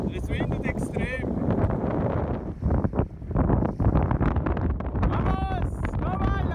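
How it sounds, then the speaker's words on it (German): Heavy wind rumbles and gusts against the microphone throughout, with people talking and calling out over it. "Es windet extrem."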